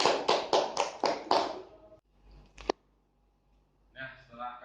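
A group in a school counseling session claps in a quick burst of about six loud claps, followed by quiet, a single sharp knock, and then faint talking.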